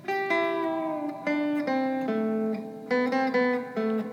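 Electric guitar playing a lesson passage from a song, sustained notes sliding in pitch through bends, a steady sequence of clean, close, fairly loud phrases with no talking.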